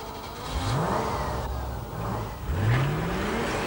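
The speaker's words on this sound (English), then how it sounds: "this is the only one here to have a V8 engine." A 1991 Range Rover V8 engine hums and revs on the move, rising twice in pitch through acceleration with steady mid-range engine drone and road noise, fairly distant and without talk.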